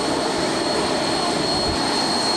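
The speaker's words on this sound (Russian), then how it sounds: "Это наш самолет." An airplane engine roaring at an island airfield, a loud steady broadband drone with a high whine, constant from start to finish.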